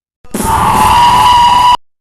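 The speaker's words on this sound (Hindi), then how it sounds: "अकरम ने मिशाल उसकी तरफ फेंकी और वो एक चीख मारकर गायब हो गई" A witch's shadow in an animated film lets out one loud, sustained shriek that starts abruptly, holds for about a second and a half, then cuts off.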